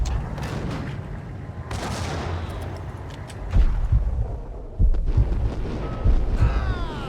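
Grenade blasts and gunfire in the shooter game Max Payne, heavy booms and sharp shots spaced irregularly over a rumbling, noisy backdrop, loud and close.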